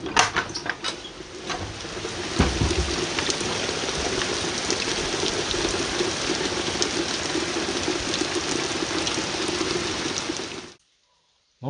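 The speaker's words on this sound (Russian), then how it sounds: "Ну вот и обещанный дождик пошел." Steady rain patters down outdoors in a rural countryside setting, with a dense even hiss of drops and a few louder taps near the start, before cutting to silence at the end.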